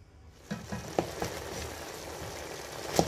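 Okra sauce with a seasoning cube and salt sizzles softly in oil over low heat, a steady low frying hiss with a few small pops and clinks standing out above it.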